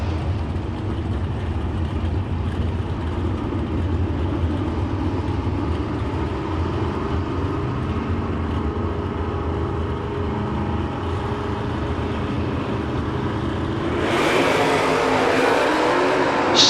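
A 1968 Plymouth Barracuda and a Chevrolet Nova at a drag strip, a steady distant engine drone that swells sharply louder near the end as the cars launch, with no talk.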